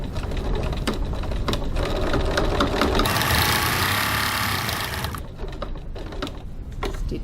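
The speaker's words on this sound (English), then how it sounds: "Stitch to about 3 millimeters, 1/8 of an inch from the edge, pivot, stitch across to the other line and stitch down" A sewing machine runs up close, stitching a crossbody bag in a fast whirring burst of about two seconds, with shorter starts and stops and handling clatter around it.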